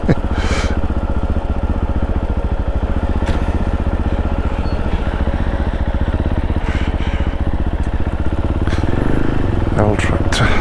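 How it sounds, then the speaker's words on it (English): An old tractor engine chugs steadily as it passes a moving vehicle on a Derbyshire Peak District road near Buxton, a loud continuous mid-pitched rumble that is joined by rattling clatter toward the end. "Old tractor."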